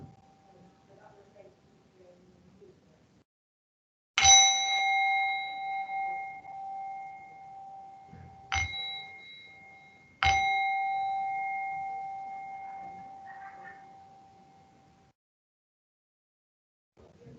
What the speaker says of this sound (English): until you hear the sound of the bell, which will indicate the meditation has ended.